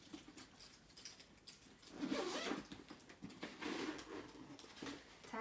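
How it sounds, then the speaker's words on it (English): A small zipper on a makeup bag is pulled open and shut in a few quick rasping strokes, close and fairly quiet. "This has a little zipper."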